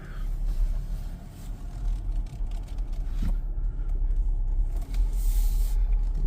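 Car driven around the block, heard from inside the cabin: a steady low engine and road rumble with slight swells and a few soft knocks throughout, and no talk.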